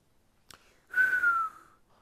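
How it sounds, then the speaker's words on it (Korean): A click, then a single short whistle that glides slightly downward in pitch, close and clear, with faint breathiness. "피터는 휘파람을 불었다."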